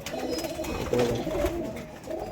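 Soft, low coos of high-flyer pigeons repeat through the clip, several birds overlapping in a steady murmur with no talking.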